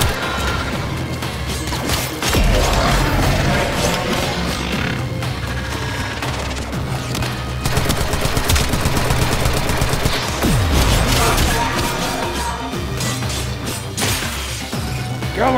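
Gunfire from Warframe combat, a dense sustained barrage of shots and crashing impacts at steady loudness, layered with game effects and thumping low-end throughout.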